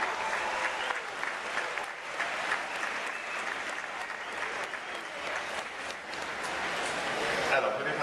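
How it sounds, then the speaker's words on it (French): Crowd applause at a Disneyland Paris show, many hands clapping steadily and at a moderate distance for several seconds, with crowd murmur mixed in. "on peut l'applaudir pour l'encourager dans le public"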